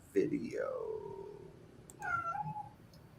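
A house cat meows twice at close range: a drawn-out, wavering call that slides downward, then a shorter second meow after a brief pause, with faint room noise in between.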